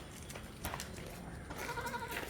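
Goats bleat faintly at a dairy farm, a doe and her two kids, the wavering cries rising near the end over a rustling farmyard background.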